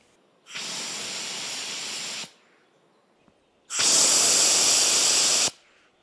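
Bear deterrent pepper spray is discharged in two loud, steady hissing bursts of about two seconds each, separated by a short quiet pause, with no talk over them.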